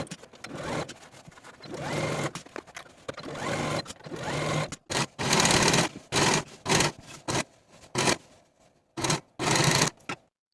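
A sewing machine stitching a pants seam across the front and back center seams, running in a long continuous burst that breaks into short, stop-and-go runs separated by brief pauses.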